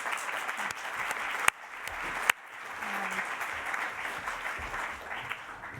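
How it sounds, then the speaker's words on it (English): Steady applause from a conference audience for a panel, a continuous wash of clapping with a couple of sharper individual claps standing out near the start, moderately distant and without talk. "a big round of applause for our panel"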